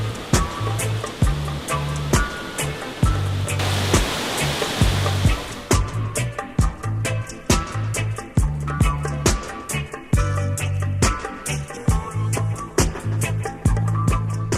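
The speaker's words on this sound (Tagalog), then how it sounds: "ito yung pangatlong palapag ng waterfalls na ito" Spring-fed waterfall in Burgos, Ilocos Norte, its steady rushing roar of falling water filling the clip, with a repeating low rhythmic pulse underneath and brief sharp knocks scattered throughout.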